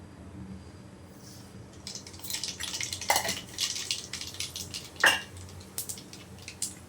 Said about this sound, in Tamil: கடுகு போட்டு கடுகு பொரிஞ்ச விடும்